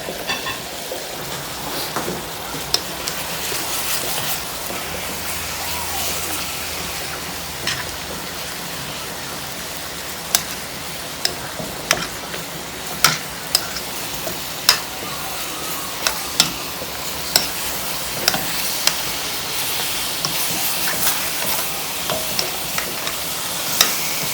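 Chicken cooks in a skillet in a honey teriyaki glaze over low heat, sending up a constant soft crackling sizzle with scattered sharp pops and ticks that grow more frequent toward the end, with no voices.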